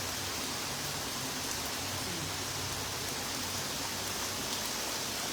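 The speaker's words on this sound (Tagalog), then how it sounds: "Umaga na maulan." Steady morning rain falls outdoors, an even, dense hiss of drops that stays constant throughout, moderately loud with no voices.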